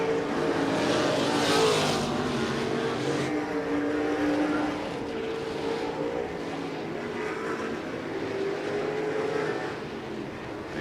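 RaceSaver sprint car engines roar around Interstate Speedway, a steady loud drone of several cars at speed with rising and falling pitch as they pass, no talk over it.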